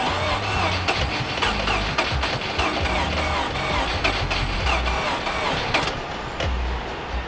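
A Mazda FC RX-7 rotary engine cranks over and over on a weak battery, a rapid rhythmic chugging whir with sharp regular pulses, loud and close, sputtering as it tries to catch, winding down at the very end.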